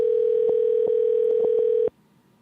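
Ringback tone from an outgoing phone call: a single sustained electronic tone, loud and close, lasting nearly two seconds before it stops abruptly. No voices are heard.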